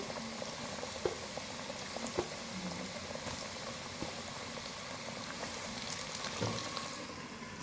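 Chicken zinger strips fry in oil over a medium flame, a steady soft bubbling hiss broken by a few faint clicks and taps, low in level with no voices.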